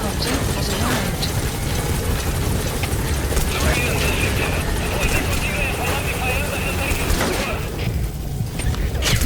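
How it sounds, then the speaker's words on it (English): A support helicopter arrives in Metal Gear Solid V: The Phantom Pain, its steady rotor and engine drone filling the scene with a mechanical whine, while radio voices talk over it. "Support helicopter has arrived."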